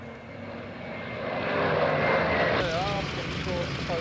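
A WWII Wildcat fighter plane flies at the Duxford Flying Legends air show, a steady droning propeller engine that swells louder midway, with someone talking over it.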